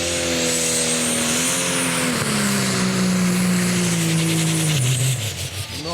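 Valtra-based pulling tractor at a European tractor pulling championship in Brande, Denmark, its engine roaring loud and steady with a falling pitch down the track before easing off at the end.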